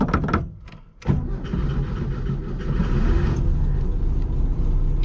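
A Volkswagen Beetle engine cranks briefly and catches, then settles into a steady, loud running rumble up close.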